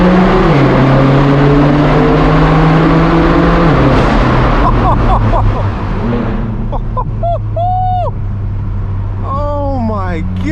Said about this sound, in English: this inline 6 twin turbo pulls like a V8. It just keeps pulling and pulling with the DCT.